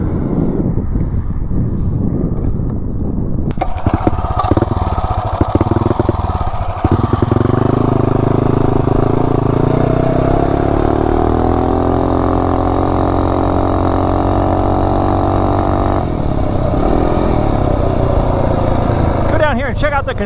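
A Mega Moto 212 mini bike rides around near a construction site, its small engine buzzing loudly and close with shifting pitch and throttle changes, wind buffeting the microphone and a voice talking early on.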